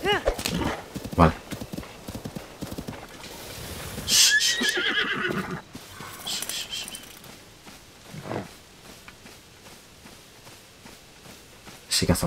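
Horses in Zelda: Tears of the Kingdom, with clip-clop hoofbeats trotting through and a loud neigh partway in, the game sounds mixed under someone talking.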